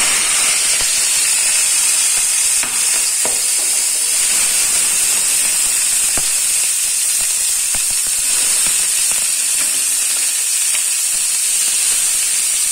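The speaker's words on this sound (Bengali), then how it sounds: "তেলে এবার সবজিগুলো ভালো করে ভেজে নেব।" Vegetables fry in hot oil for veg chili chowmein, giving a loud, unbroken close hiss and spitting sizzle with a few faint clicks and pops, with no voices.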